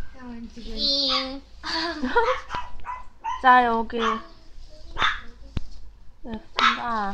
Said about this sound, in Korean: 옆에서 강아지가 짖고 있네요.